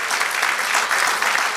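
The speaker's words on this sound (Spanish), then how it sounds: "Denle un aplauso al Señor por eso" Dense applause from a church congregation during a Spanish-language sermon, a close, steady wash of clapping with no voices over it.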